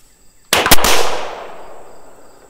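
A single loud, close gunshot cracks from a Callaway Ballistic fitted with a 6-inch Army Craft barrel and muzzle brake, with a sharp double-peaked report followed by a long reverberant decay.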